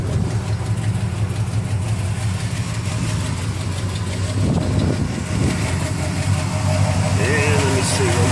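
A 1962 Chevrolet Impala two-door hardtop with a 350 V8 idles with a steady low rumble, close and continuous, with a brief rise partway through.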